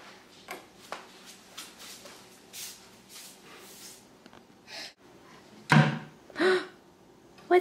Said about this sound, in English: We like to open the doors and close them.